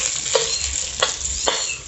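Onion sautéing in a pan gives a loud, close sizzle with three evenly spaced scraping stirs of a spatula across the surface. No talking.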